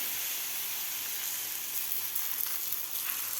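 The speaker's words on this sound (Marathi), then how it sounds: "इथं मी लोखंड तवा ठेवलेला आहे तवा आपला गरम झालेला आहे तर त्यावर आता आपल्याला हे थालीपीठ टाकायचं आहे" Bajra thalipeeth sizzling on a hot iron griddle, a steady faint hiss of frying that holds evenly throughout with no talking.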